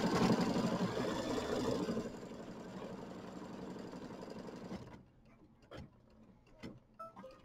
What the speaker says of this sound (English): then it looks like it's going to do the satin stitch outline on the hat.